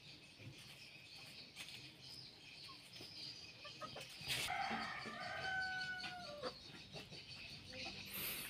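A young hen scratching at the ground and clucking in short, quiet bursts, faint and fairly distant, with a steady chirp of crickets and other outdoor ambience around it.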